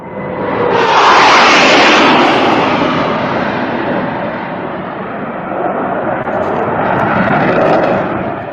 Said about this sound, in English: That jet engine noise you hear, we refer to it around here as the sound of freedom.